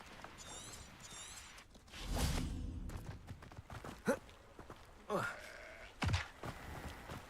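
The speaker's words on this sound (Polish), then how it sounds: "Czego beczysz?" Sheep bleat in the Hogwarts Legacy video game amid thuds and footsteps, with several wavering bleats and bumps spread across a busy scene while a person speaks.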